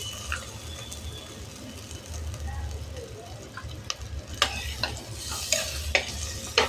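Soaked, washed dal sautéed in a generous amount of oil, a steady low sizzle with scraping stirs and a few sharper utensil clicks near the end, while a voice talks over it.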